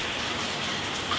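Rain pelts down outside on a wet Sydney morning, a dense, even hiss heard from indoors, steady and moderately loud with no talking over it.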